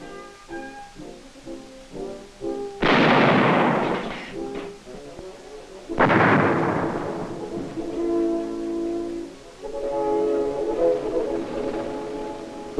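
Trainee artillery crews live-firing in Taiwan, two loud booming blasts a few seconds apart, each with a long rumbling decay, over a background of music.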